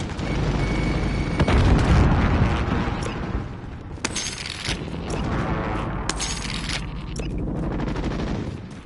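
A frag grenade bursts in Call of Duty Warzone amid loud, close gunfire, with heavy booms, crackling shots and shattering debris layered in a dense, chaotic stretch of combat.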